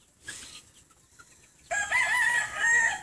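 A rooster crows loudly and nearby in a long drawn-out call, after softer clucks and scattered farmyard chicken sounds.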